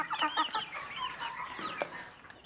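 Chickens cluck softly and busily while pecking at their feed, several overlapping close calls in quick irregular bursts with no talk over them.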